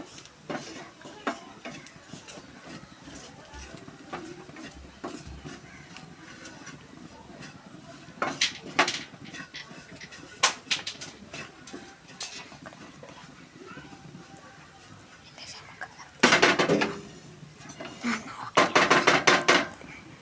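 Grated coconut and bitter gourd are sautéed in a pan for a sadya dish, with irregular clinks and scrapes of a spoon against metal and bursts of louder stirring near the end, under intermittent talk.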